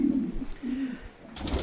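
Racing pigeons coo in a stock shed, a low, throaty rolling coo repeated in short phrases, close and fairly steady, with no voices.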